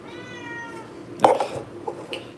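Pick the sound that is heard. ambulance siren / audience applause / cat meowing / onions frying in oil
cat meowing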